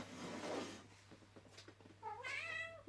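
A cat meows indoors, close and loud, letting out a couple of drawn-out rising calls toward the end after quieter rustling, with no one talking.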